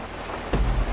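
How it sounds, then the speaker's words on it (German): Steady rain pours down in Grand Theft Auto V Online's wetlands, then a sudden louder rush and low rumble swells in halfway through. "Es regnet in den Feuchtgebieten."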